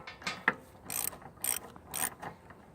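Bolts rough-tightened with a ratchet on a log bed extension being assembled for a Timbery M100 sawmill: several short bursts of ratcheting clicks, close and fairly loud, with brief pauses between turns.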